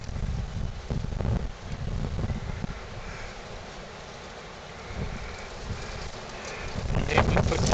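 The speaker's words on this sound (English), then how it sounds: "Sorry guys, it's windy out here today." Outdoor wind buffets the microphone in uneven, rumbling gusts that rise and fall across the clip, loudest near the start and end, with no clear speech.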